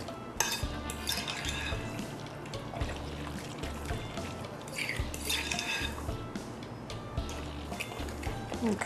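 Utensils scrape and clink against a bowl as ingredients are stirred, with a steady, repetitive rhythm close by and faint background hum.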